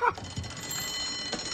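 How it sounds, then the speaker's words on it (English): An alarm clock rings in a cartoon pirate ship cabin, a short burst of ringing that quickly fades into quiet room tone, with no one speaking. "He turns off his alarm clock"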